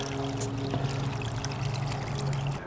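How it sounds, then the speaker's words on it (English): Rinse water from washing garden kale and collard leaves is poured steadily onto a tree, making a continuous splashing pour that stays fairly loud and even throughout. "And now I can just use that water to feed a tree."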